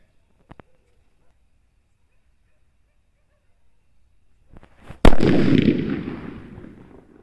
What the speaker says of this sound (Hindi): ये देखो बिग साइज सुतली बम